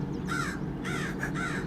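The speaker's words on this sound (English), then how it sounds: "I hope you guys can hear the crow that's yelling at me right now." A crow caws loudly and close by, three harsh, drawn-out calls in a row with short gaps, over a steady outdoor background.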